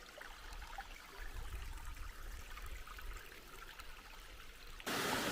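Shallow, low-running creek trickling steadily at a water crossing just below a waterfall on a green forest trail near Franklin, North Carolina; a continuous close babble that swells briefly near the end.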